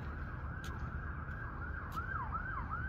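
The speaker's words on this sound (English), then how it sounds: "You can hear sirens." Distant emergency sirens wail in repeating up-and-down sweeps over a low rumble of town traffic.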